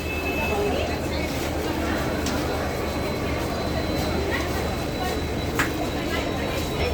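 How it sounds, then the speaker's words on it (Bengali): At Siliguri station beside the Kanchankanya Express, a steady low rumble of idling train and station noise fills the background, with faint clanks and a distant horn-like tone, while a person talks over it. "এই ট্রেনটিতে করেই আমরা এলাম।"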